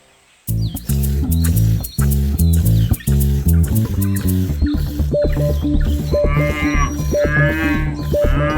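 Cartoon cow mooing in an animated children's moral story, repeated loud harmonic moos over a busy music bed, with a high squeaky cartoon voice rising near the end.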